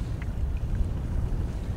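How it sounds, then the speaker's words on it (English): Strong wind buffets the microphone on the Wisconsin River during spring walleye fishing, a steady low roar of gusts throughout with no voices. "It is extremely windy, so if you have a hard time hearing me, that's why."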